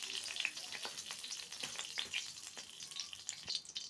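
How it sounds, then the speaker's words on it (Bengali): Whole cumin seeds crackle and sizzle in hot oil in a pan, a busy close frying hiss with scattered sharp pops throughout, fairly quiet and with no voices. "এখন এর মধ্যে কিছুটা গোটা জিরে দিয়ে দেব।"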